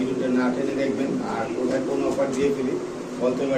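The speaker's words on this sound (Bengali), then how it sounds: "চলে আসলাম আমাদের প্রিয় ফিরোজ ভাইয়ের কবুতর লফটে" Several pigeons coo in low, rolling calls nearby inside a pigeon loft, mixed with a person talking over them.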